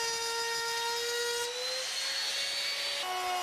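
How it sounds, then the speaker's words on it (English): A Bosch power tool cuts a groove for a cabinet drawer bottom, producing a continuous, loud high-pitched whine that shifts pitch slightly as the cut proceeds. No voices are heard. "Now the groove for the drawer bottom."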